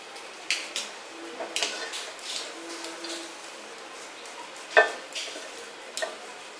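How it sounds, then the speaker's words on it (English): Fish frying in hot oil in a pan, giving a steady crackling sizzle with scattered louder pops and ticks, one sharp near spike, and no talk over it. "Pour some oil for frying the fish."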